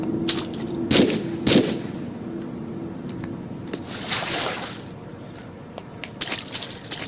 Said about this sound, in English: I think you can also shoot the crocodiles.